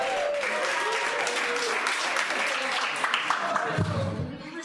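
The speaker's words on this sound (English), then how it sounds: "Let's give them a round of applause for that" Sustained applause from an audience at a business festival, steady clapping filling the room, with a few voices mixed in before it begins to fade at the end.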